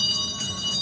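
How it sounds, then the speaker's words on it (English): A bell rings to call a line-up at an evening class, a bright sustained tone with a slight restrike partway through, close and clear with no talking. "thank you for getting that bell going"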